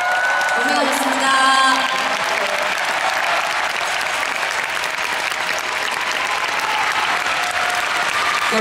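A large concert crowd applauds the staff at a Seoul concert by IU, sustained dense clapping with a few cheers after brief talk at the start.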